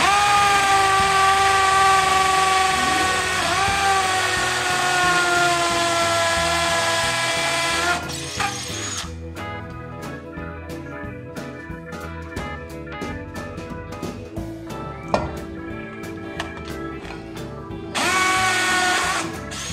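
A Porter Cable PCC620 drill fitted with a quarter-inch bit whines loudly and steadily for about eight seconds, then goes quiet with scattered clicks and taps before spinning up again near the end.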